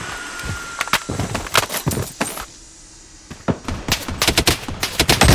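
Rapid bursts of machine gun fire in the mobile shooter Blood Strike, loud and close, coming in repeated volleys with a brief lull midway before the shooting resumes even denser.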